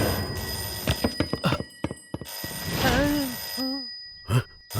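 A telephone rings in short bursts amid scattered knocks and movement, with a brief voice-like warble near the end.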